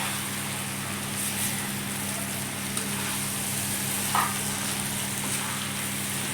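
Egg and vermicelli fry in a pan while being stirred, a steady close sizzle with occasional light scraping and clinks of the utensil, no voices.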